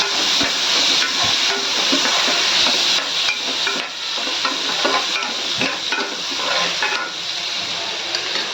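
Onions, cumin, mustard seeds and chopped tomatoes frying in a pan for sambar, giving a steady close sizzle and hiss with occasional stirring scrapes and clinks.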